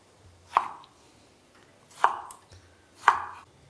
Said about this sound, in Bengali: ততক্ষণ আমি এখানে টমেটোটা কেটে নেব।